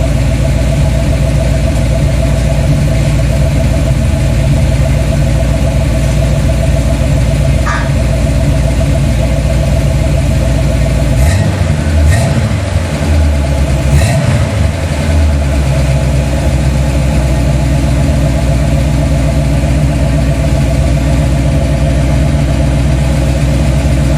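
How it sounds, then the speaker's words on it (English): A Chevrolet 350 small-block V8 fitted in a 1987 Dodge Dakota idles loudly and steadily, then gets a few quick throttle blips about halfway through before settling back to a rough, rumbling idle. "I'll rev her a little bit, see if it rolls smoke or not."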